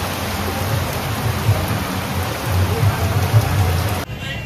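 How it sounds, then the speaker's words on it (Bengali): Loud, dense torrential downpour in Puri drumming steadily on surfaces, a thick continuous roar with low rumbling beneath, cutting off abruptly near the end. "পুরো মুষলধারায় বৃষ্টি হচ্ছে, বিশাল জোরে বৃষ্টি হচ্ছে"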